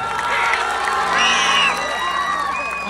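A crowd cheers with whoops and high whistles at a lively stage show by folk performers Manohar Singh and Alka Singh in Bihita, Bihar, with shouting voices mixed in.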